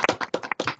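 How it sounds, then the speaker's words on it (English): A small group at a book launch claps briefly and sparsely, a handful of distinct close hand claps in an uneven rhythm lasting under a second. "I think I'd like to lead a round of applause for Brendan"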